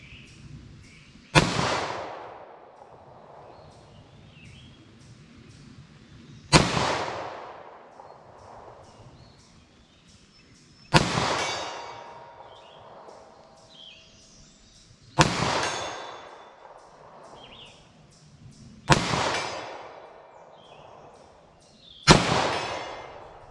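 Six single pistol shots from a short-barrel 9mm or .38 Special handgun loaded with Fiocchi CovertX ammunition crack sharply at a steady pace several seconds apart, each followed by a fading ring and echo across an outdoor range.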